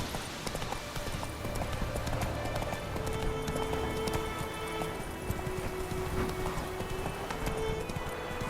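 A horse gallops in The Witcher video game, a steady patter of hoofbeats under game ambience, with a faint tonal drone in the background.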